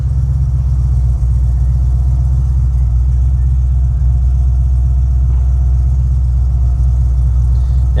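An HSV GTS car engine runs steadily at idle, a loud continuous low rumble held for the whole stretch with no voices over it.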